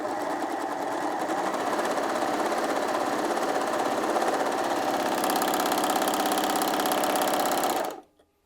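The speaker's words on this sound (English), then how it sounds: "I can just place my fabric under the foot and go ahead and sew." A Janome AirThread 2000D overlocker runs at speed sewing a four-thread overlock seam on fabric, a loud, fast, steady mechanical chatter that stops abruptly at the end.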